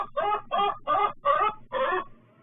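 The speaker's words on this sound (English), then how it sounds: "That's my fluffy working chicken" A fluffy working hen clucks in five short, evenly spaced bursts, close and fairly loud, with no other sounds around it.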